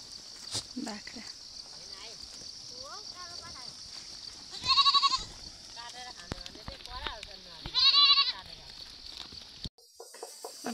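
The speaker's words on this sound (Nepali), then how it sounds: "बाख्रा लिएर बाख्रा यहाँ चढाइरहेको छु" Goats herded home up a hillside path in a Khotang village give two loud, drawn-out bleats a few seconds apart, over a steady bed of insect chirring and softer rustling.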